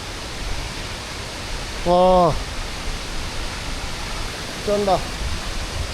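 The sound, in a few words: Sri Lankan waterfall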